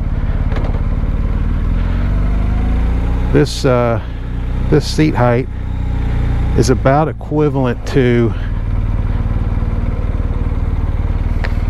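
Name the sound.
BMW R1250GS motorcycle engine riding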